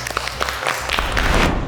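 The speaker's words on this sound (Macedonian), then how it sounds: "Златко Таневски, аплауз." Studio audience applause on a television cooking show greets a chef being introduced, a dense, steady wash of clapping that holds for a couple of seconds at moderate loudness.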